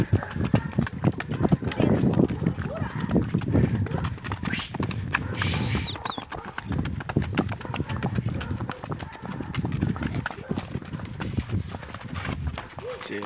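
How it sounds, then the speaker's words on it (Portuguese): Horse galloping and jumping a creek while ridden, a steady rhythmic clip-clop of hooves running throughout with people talking over it. "O cavalo tá num galopinho ruim pra gravar,"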